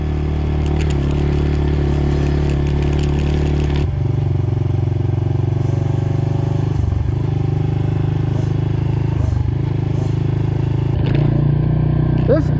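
A dirt bike engine droning loudly and continuously as it rides across a field, with the engine note shifting and dipping a few times and rattling clatter from the ride over rough ground.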